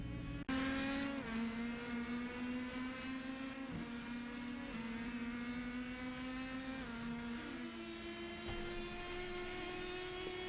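A race car at the Nordschleife holds a steady, loud, buzzing engine note, with a sharp onset and pitch dips as it shifts gears, heard close and alone.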